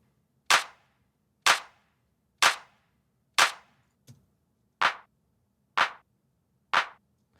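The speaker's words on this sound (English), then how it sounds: "Then I have the claps here, just gonna be 2 claps layers." Eight sharp layered clap hits in a deep house track, evenly spaced about a second apart with one much softer hit between the fourth and fifth, dry and alone with no voice.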